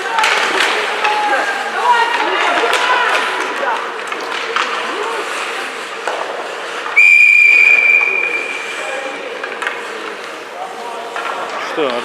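A referee's whistle blows sharply once at an ice hockey game, a steady piercing tone lasting about a second over loud rink noise, crowd shouts and nearby voices talking.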